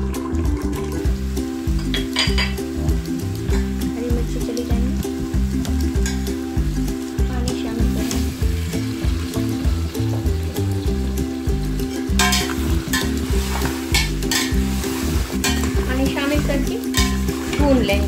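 Whole garam masala spices, including cinnamon, sizzle and fry in a pot for white pilao while a spoon stirs them, a steady crackling hiss with scraping strokes throughout.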